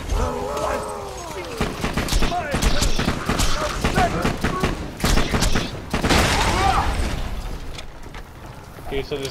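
A bandit-style gun from a golden chest fires in a video game as rapid, punchy shots in clustered bursts, loud and close, with game sounds and a voice speaking at points.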